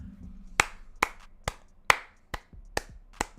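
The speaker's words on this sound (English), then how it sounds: "I clap for you if you do that." Hands clap about eight times in a slow, fairly even rhythm, each sharp clap close and distinct against a quiet background.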